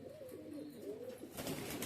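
Soft, low cooing from an old pigeon, some eight to ten years of age, kept in a fancier's loft; a rolling, throaty coo repeats close by at modest volume, with no talk.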